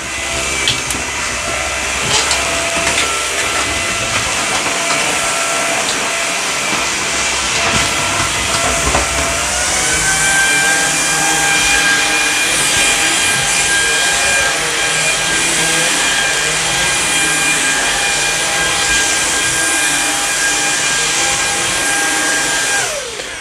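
A Samsung Jet VS70 cordless stick vacuum runs on carpet, a loud continuous whine and hiss with a steady pitch that shifts once partway through as the load changes, with no talking.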